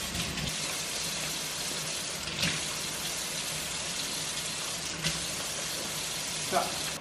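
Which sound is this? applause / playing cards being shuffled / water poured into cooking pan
water poured into cooking pan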